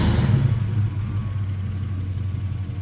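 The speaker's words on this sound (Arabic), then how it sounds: "الحين بدق الموتر سلف" A car engine turns over and catches after a battery jump-start, a low rumbling drone that is loudest at the start and then settles to a steady idle. No one speaks.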